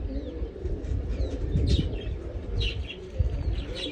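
Pigeons coo and chirp outdoors over a low rumbling background, with short bird calls scattered through and a brief flutter. No talk is heard.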